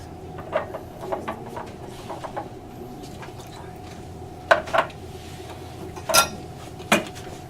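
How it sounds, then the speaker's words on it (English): A small teapot being rinsed, with scattered light clinks of ceramic and a few brief watery splashes and drips, fairly close and sparse over a low steady background. "Let's rinse this one out too."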